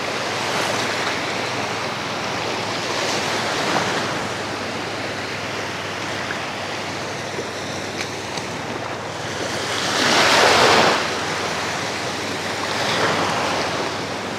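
Strong ocean surf rolling onto a sand beach at Kamandag Beach in Ternate, Cavite, a loud continuous wash of waves with wind buffeting the microphone and a bigger wave surging up partway through.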